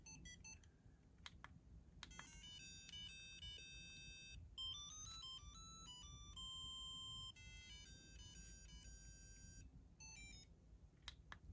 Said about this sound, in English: you had the little thing inside of the phone that made that beeping sound